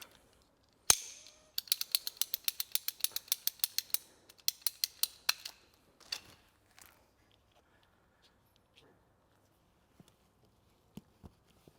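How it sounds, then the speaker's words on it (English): A small section of plastic pipe for a solar hot tub heating kit's cold return line is cut with a ratcheting pipe cutter, giving a quick burst of about a dozen sharp, evenly spaced clicks, then a few scattered snaps and taps close by. "And now a small section of pipe. Just cut that."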